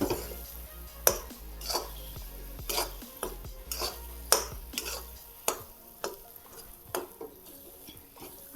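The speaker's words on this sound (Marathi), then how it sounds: "बुडातून खरडून हलवायचं करपू द्यायचं नाही" Coconut sugar syrup for fresh coconut vadi being scraped from the pan bottom and stirred, with repeated close metallic scrapes and clinks of a spoon against the pan at an uneven rhythm, no talking.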